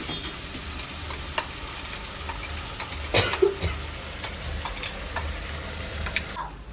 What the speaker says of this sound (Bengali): মশলাটা ভালো করে ভেজে বসিয়ে নিয়েছি